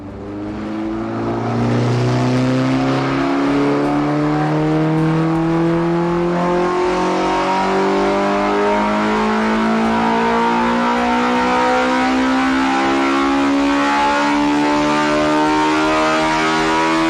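A V8 motorcycle engine built from two Hayabusa engines revs up and climbs in pitch, holding a loud, close, rising wail with no talk over it.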